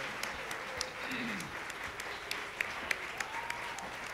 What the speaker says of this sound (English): Why am I clapping?